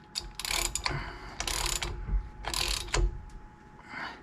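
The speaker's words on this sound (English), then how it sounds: "we're going to go ahead and use this to torque it down with our ratchet" Ratchet torquing down the pinion yoke nut on a GM 14 bolt axle: four loud, close bursts of rapid clicking strokes with short gaps between them.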